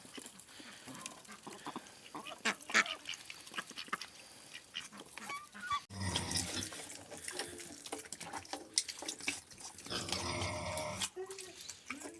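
Geese and ducks on a smallholding in spring, giving scattered quacks and honks at moderate distance amid farmyard background noise, with a louder burst of calls toward the end; a person talks in places.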